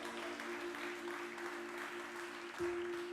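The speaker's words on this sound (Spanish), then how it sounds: "Aplauda su nombre en esta mañana." A church congregation applauding during a Spanish-language service, a soft continuous wash of clapping heard at a distance beneath a steady sustained tone.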